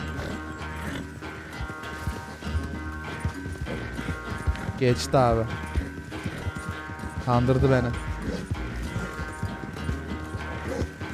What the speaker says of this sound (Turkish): Onun atı nasıl 4 nala koşmaktan tükenmedi?